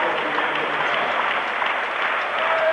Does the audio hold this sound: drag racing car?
no